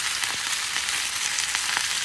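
A porterhouse steak sizzles in a hot cast iron skillet, a steady dense frying hiss with small crackling pops throughout, close and continuous, with no voices.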